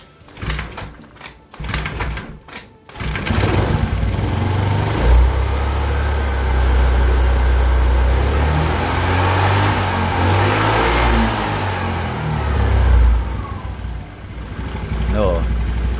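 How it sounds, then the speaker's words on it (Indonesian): A motorcycle engine is started and keeps running with erratic, uneven revving, loud and close. A voice talks briefly before the engine takes over. "karena motor saat dinyalakan itu pengisian itu kocar-kacir"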